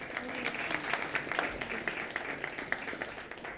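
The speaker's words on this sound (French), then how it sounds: "on les applaudit." Applause from the audience at a Montreal tech awards ceremony, a brief burst of many hands clapping with individual claps standing out, steady and moderately loud throughout.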